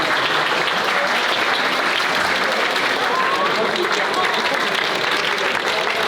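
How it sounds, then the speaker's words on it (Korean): Loud, dense applause from a fight-event crowd for the fighter Sparrow, a continuous wash of clapping with cheering mixed in. "스페로우 선수께 큰 박수 부탁드리겠습니다"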